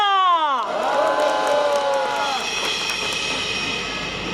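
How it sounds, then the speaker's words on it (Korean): A loud crowd at a Korean national prayer rally cheers and whoops over a swelling roar of applause, with a descending whistle-like tone at the start. "박수 부탁드립니다"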